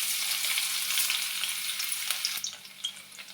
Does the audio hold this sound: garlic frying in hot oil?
yes